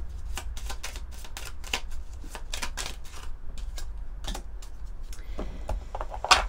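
Angel oracle cards being shuffled by hand, heard up close as a run of quick, crisp riffling bursts in an irregular rhythm, with no talking.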